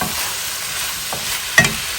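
Chicken and vegetable noodles being stirred in a hot frying pan, a soft continuous sizzle with a couple of brief scraping clicks from the utensil.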